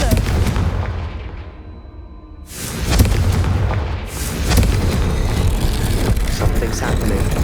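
A Confringo fire spell blasts in Hogwarts Legacy as loud, booming explosive bursts. A rumbling roar fades briefly, then swells back with crackling impacts over a continuous heavy background.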